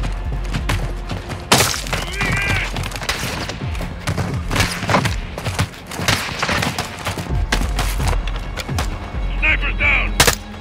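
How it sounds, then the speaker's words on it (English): Gunfire in a Call of Duty: Modern Warfare II campaign battle, with repeated sharp, loud shots and booming impacts scattered through a busy combat din, plus brief voices and a few distant whistling sounds. "Bloody good shot, mate."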